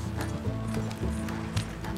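Horse hooves clip-clop in a steady gallop-like rhythm in Red Dead Redemption 2, with a faint whinny possible. The hooves are close and moderately loud over a constant game background.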